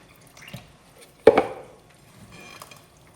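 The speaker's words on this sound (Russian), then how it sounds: "Потихоньку подливаем воду." Water is poured slowly into Armenian lahmajo pizza dough in a bowl, mostly quiet with faint trickling and one brief, close splash partway through, and no talking.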